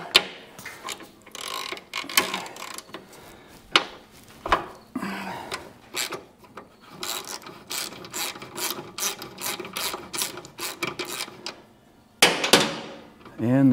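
A ratchet backs out the bottom shock bolt on a Harley-Davidson Road Glide, with close, loud bursts of rapid clicking in several runs broken by short pauses and a few knocks.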